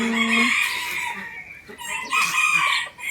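Bantam chickens on a Thai breeder's farm, with a rooster crowing twice in a bright strained call amid clucking and faint background talk.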